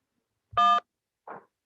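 A single short telephone keypad tone, then a brief fainter electronic blip after a pause; quiet otherwise, no voices.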